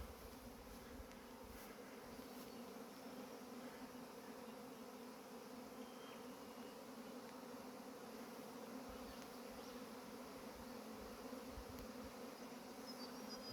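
A honeybee swarm pours out of a recently made hive split, a dense steady buzzing of many bees that carries on evenly and fairly faint, with no voices.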